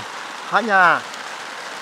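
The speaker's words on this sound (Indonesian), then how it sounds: "gerimis hujan yang berbunyi di terpal ini ya" Light drizzle falls on a tarp shelter outdoors, giving a soft, steady hiss throughout, while a voice briefly speaks a single word over it.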